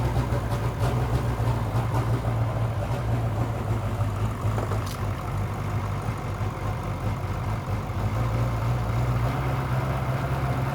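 Swapped diesel engine in a truck idling after start-up, a steady low rumbling drone with a faint uneven misfire, loud and close, continuous throughout.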